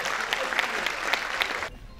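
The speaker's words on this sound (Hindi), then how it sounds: "जोरदार तालियां दिनेश बावरा के लिए" Audience applause for a poet at a kavi sammelan in a hall, a loud, dense burst of clapping with crisp individual claps that cuts off sharply near the end.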